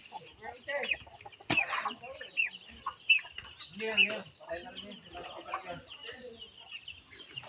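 A chicken clucks repeatedly in short, scattered bursts, with people talking nearby and a sharp knock partway through.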